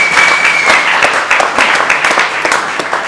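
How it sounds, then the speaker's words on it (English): At a wedding reception at Seville Hill Winery near Melbourne, guests give the parents a round of applause: close, loud, continuous clapping from a crowd, with a brief whistle near the start. "So just a round of applause for mum and dad"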